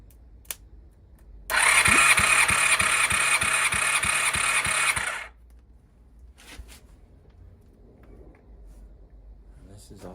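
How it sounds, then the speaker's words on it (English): A Honda VFR400 NC30 motorcycle engine cranked by its starter during a compression test, a loud rhythmic churning burst of about four seconds between quiet stretches with faint clicks. "then I'm going to crank the engine"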